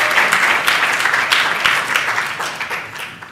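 Warm, continuous applause from an audience at a Global Leaders Network meeting on women's and children's health, a dense wash of many hands clapping that slowly tapers off.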